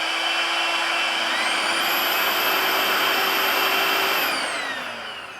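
A Revair hair dryer vacuum runs at a steady, loud whooshing whine, its motor tone holding level for several seconds before easing down near the end, with no talking.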